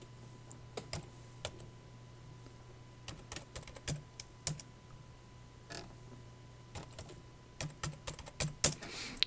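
Computer keyboard keys tapped while entering a new password during an OpenIndiana Solaris setup, irregular clicks in short bursts over a steady low hum, moderately close and fairly quiet.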